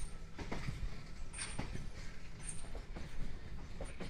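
A Sealdah to Bangaon local train runs just after leaving on time, a steady rumble of rolling carriages with rhythmic wheel clatter and occasional faint high squeals, heard from inside with no talking.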